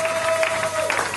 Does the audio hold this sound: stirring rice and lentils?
no